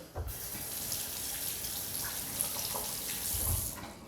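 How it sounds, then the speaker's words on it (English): Steady running tap water splashing into a sink as a tomato is rinsed under the stream, continuous and close, with no voices. "I'm going to wash my tomato."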